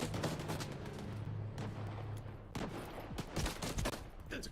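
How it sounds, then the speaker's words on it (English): In the S.T.A.L.K.E.R. 2 shooter game, a grenade explodes amid continuous close gunfire, sustained loud bursts of shots and booms layered densely, then sharper individual reports toward the end, with no talking. "That's a grenade."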